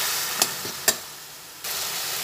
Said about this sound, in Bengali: সেই টক দইটাও এরপরে দিয়ে দিলাম